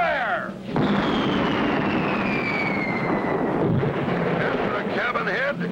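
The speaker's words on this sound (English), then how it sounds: "Blast away, Ezra. Fire" A cartoon cannon fires from a pirate ship with a sudden loud blast that rolls on as a long rumbling roar, with a thin falling whistle above it and a brief voice before the shot.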